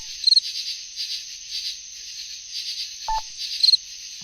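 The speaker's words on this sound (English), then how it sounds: "you should actually hear the traffic signal beep in your left ear and then the cricket sound in your right ear" A steady, near insect-like cricket chirp pulses throughout, mixed in Audacity with a traffic signal beep: short electronic triple beeps near the start and end and a single lower tone near the middle. No speech.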